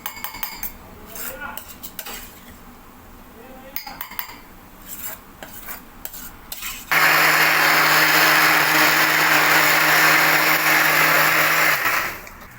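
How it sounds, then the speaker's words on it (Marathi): A kitchen mixer grinder blending paneer masala gravy, preceded by clinking of utensils and the jar being handled, then a loud steady motor whir for about five seconds before cutting off. "ते आता मिक्सरला वाटून घेऊया."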